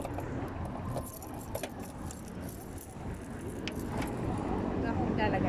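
Car keys jangle and rattle in a few bursts near the microphone, with a parked car and road noise in the background.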